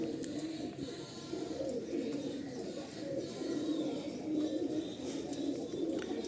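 Malwai pigeons coo repeatedly close at hand, soft low throaty calls overlapping in a continuous rolling murmur.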